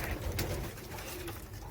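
A Teddy pigeon, a Rampuri breed, coos in a soft, low murmur close by, steady and faint, with no talk.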